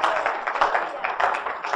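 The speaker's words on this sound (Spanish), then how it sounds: "Dale un aplauso al Señor" A church congregation applauds together in a dense, steady wash of clapping that holds for the whole stretch, with voices mixed in underneath.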